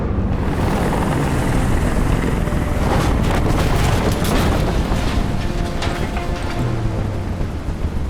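Steady loud helicopter rotor roar in the video game Detroit: Become Human fills the whole stretch with continuous whirring and rumble, close by and unbroken.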